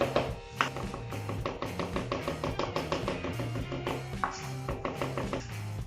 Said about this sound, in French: Donc les champignons, on va les hacher.